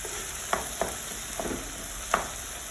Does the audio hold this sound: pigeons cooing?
no